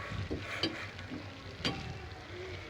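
Mussels fry in a pan with coriander powder while a spoon stirs them, a soft continuous sizzle broken by a few scraping strokes, close and fairly quiet.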